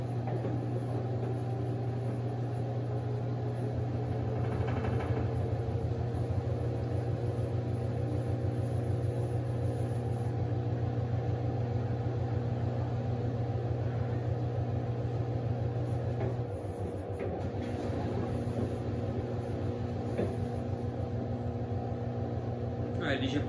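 Two front-load washing machines, a Samsung WW85J43MW and an LG WD10WP6A, spin toward 1800 RPM, giving a steady loud motor drone with a tonal hum that shifts in pitch partway through.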